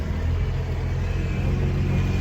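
Loaded vermicompost delivery vehicle rumbling along a road on its way to Ratnagiri, a steady low engine drone heard from inside, continuous and fairly loud with no voices.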